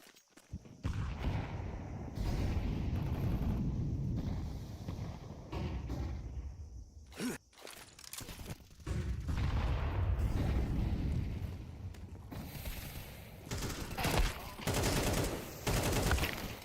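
Bursts of gunfire from a Rainbow Six Siege esports pro league match between Prestige and GenOne, loud and dense, rattling through most of the stretch with brief lulls and a mix of rapid shots and heavier booms.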